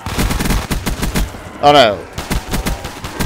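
Rapid semi-automatic FAL rifle fire in a Minecraft-styled Black Ops 2 zombies map, shots cracking in quick bursts close up with a brief spoken exclamation in the middle.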